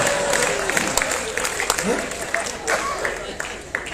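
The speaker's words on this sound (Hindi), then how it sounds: "ताली वही लोग बजा रहे हैं जिनकी समझ में आ रहा है" An audience at a comic poetry recital, a hasya kavi sammelan, breaks into lively applause, a dense, steady patter of many hands clapping throughout, with a voice and some laughter audible beneath.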